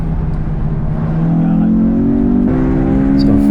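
A Honda S2000 accelerates hard on a race track, its engine note climbing steadily in pitch as it winds out, with a brief dip around a gear change before pulling higher again, loud and close.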